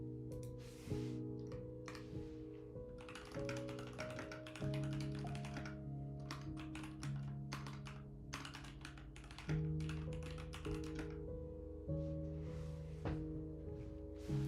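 Computer keyboard typing, steady clicks running under a background of sustained music tones, fairly close and moderately loud throughout.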